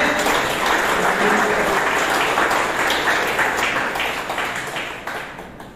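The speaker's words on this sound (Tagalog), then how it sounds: "Bigyan natin ng malakas na palakpak ating Panginoon." Loud, dense applause rises from a church congregation during a Christian service, a full wash of clapping that stays strong and then slowly tapers off near the end.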